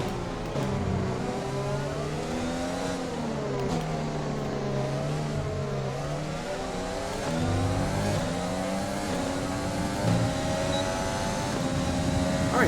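An F1 car engine drones steadily in F1 2020 at the British Grand Prix, loud and close, its pitch rising and falling through gear changes and throttle shifts with no break.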